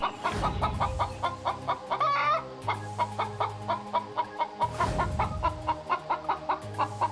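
Cartoon chickens clucking in quick repeated bursts, with rhythmic squawks and background music, loud and close with no talking.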